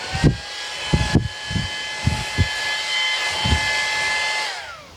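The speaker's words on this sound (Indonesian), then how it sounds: "Ini kipas portable ya, kecil banget." A small portable fan runs with a steady whirring hum that holds on a constant pitch and then winds down near the end, close and loud, with a few soft knocks and handling bumps over it.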